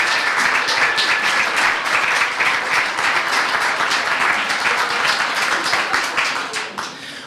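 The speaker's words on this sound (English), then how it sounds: "Please clap for KK." Audience applause and clapping at a Start Garden update night, steady dense clapping filling the room for about seven seconds before tapering off at the end.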